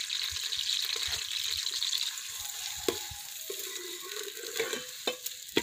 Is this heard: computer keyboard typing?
no